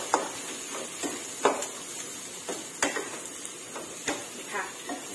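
Onion and wood ear mushroom stir-fried in a pan, a steady sizzle broken by repeated sharp scrapes and clacks of a spatula against the pan at an irregular rhythm.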